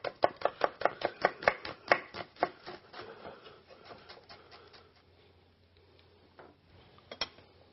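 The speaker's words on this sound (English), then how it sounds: "Now the onion, we're just going to do a nice julienne on and just lay this across the" A knife julienning an onion on a cutting board, with a quick run of close, crisp chops at first that slows and fades to scattered taps and a last few knocks.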